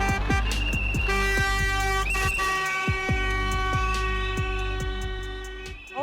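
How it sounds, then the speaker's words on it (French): Car horns and whistles sound across a residential zone in Minneapolis as residents warn of ICE vehicles nearby: steady, overlapping honking tones with a string of short repeated toots, loud and close throughout. "un concert de sifflets et de klaxons"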